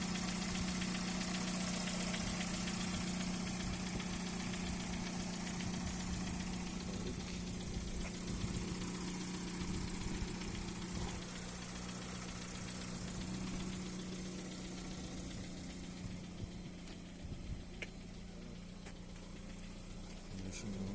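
Steady close idle of a Hyundai Tucson or Kia Sportage engine, a continuous low hum with light vibration that holds evenly for the whole stretch, no voices.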